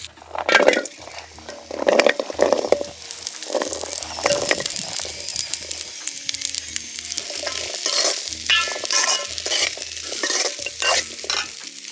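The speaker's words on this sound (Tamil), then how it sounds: "சின்ன வெங்காயம் இஞ்சி பூண்டு கறிவேப்பிலை எல்லாம் போட்டு ஒன்றா வணக்கிக்கலாம்" Shallots, ginger, garlic and curry leaves fry together in a pan for a village-style goat gravy. Repeated scraping stirs and clatters ride over a continuous sizzle, with a low steady hum beneath and no voices.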